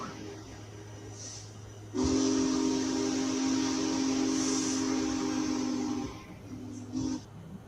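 A loud, steady steam locomotive whistle, Big Boy's chime, blows for about four seconds, then a shorter second blast, heard at a distance over low rumbling.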